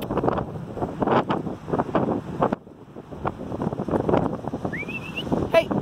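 Gusty wind buffets the microphone outdoors by the water near a yacht harbour, loud rumbling bursts that ease briefly midway, with people talking and a high squeak near the end.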